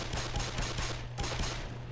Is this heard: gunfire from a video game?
yes